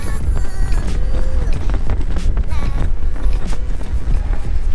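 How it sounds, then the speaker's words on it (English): Strong wind on a cruise ship deck buffets the microphone in steady gusts, a loud, rough roar with no voice heard. "it really is so windy out here"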